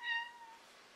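A hungry house cat gives a single short meow up close, fading quickly into quiet room noise with no talk.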